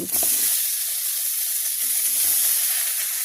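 Taro leaves cook in a hot pan with a constant loud steamy hiss and sizzle that runs for the whole stretch. A few faint knocks come under it.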